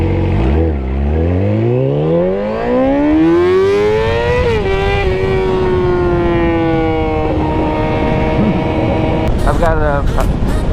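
A motorcycle with a crazy loud full-system N4 aftermarket exhaust revs hard close by, its pitch climbing steeply and then holding a loud, raspy drone, with a few sharp blips near the end.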